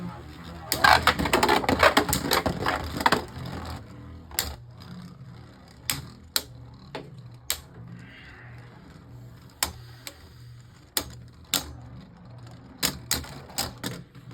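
Beyblade Burst tops Rock Dragon and Spryzen launch with a dense rattling burst, then clash in sharp, scattered clicks and knocks across a quiet arena, close and crisp.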